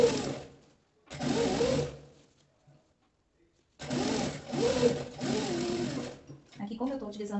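A sewing machine stitches thick twill fabric with a size 14 or 16 needle, running in loud, steady whirring bursts separated by short pauses, with someone talking in between.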